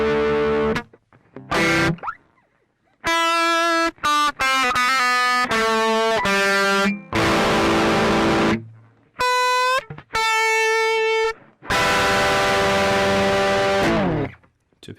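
Electric guitar played through the lead channel of a Marshall MGP9004 preamp with gain and volume about halfway, giving loud distorted chords and sustained notes in short bursts separated by brief silences.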